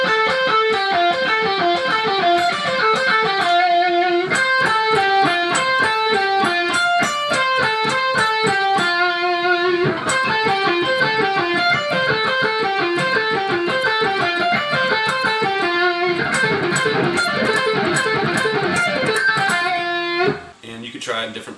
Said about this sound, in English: I'm just going to show you like a really basic minor pentatonic picking exercise